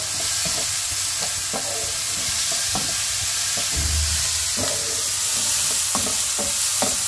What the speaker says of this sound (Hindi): अब इन सब चीज़ों को हमने मिक्स करना है।